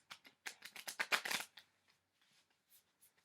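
A deck of cards being shuffled close up: a quick run of crisp riffling snaps, followed by a few soft, sparse taps and near-silence.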